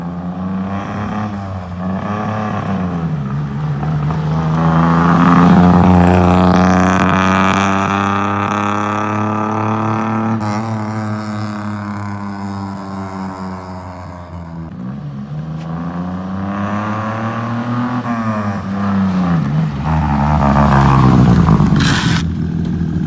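Suzuki Swift GTI exhaust revving loud and close with no voices, rising and falling in pitch through several throttle blips over a steady engine drone.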